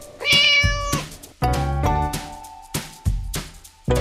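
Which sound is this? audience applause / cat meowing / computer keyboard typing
cat meowing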